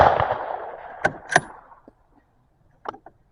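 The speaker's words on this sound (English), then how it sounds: "Let's shoot the middle target on these three here." A Ruger American Go Wild rifle in .243 fires a single sharp shot outdoors at a range target, with a decaying echo and a couple of faint clicks afterward, no talk.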